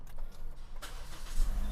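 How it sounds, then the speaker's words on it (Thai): A 2018 Toyota Altis 1.6G engine cranks briefly and catches, rising into a low idling rumble nearby after a few faint rattles. "มาลองสตาร์ทเครื่องยนต์กัน"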